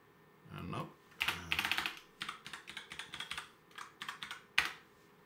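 Someone types a password on a computer keyboard nearby, with irregular bursts of clacking keystrokes separated by short pauses and a sharp final key press.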